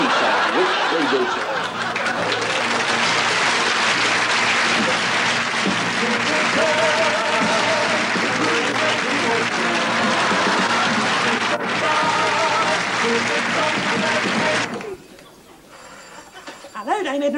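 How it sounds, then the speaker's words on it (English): Studio audience applauding Dame Edna Everage, the Barry Humphries character, on a 1977 television show, loud dense clapping mixed with laughter that carries on steadily, then drops off abruptly near the end. "give her the clap she so richly deserves."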